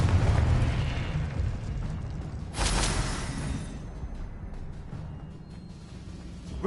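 A Confringo explosive spell cast in Hogwarts Legacy bursts with a sudden bright blast that rises above a dense, rumbling game soundscape, then fades back into the steady background noise.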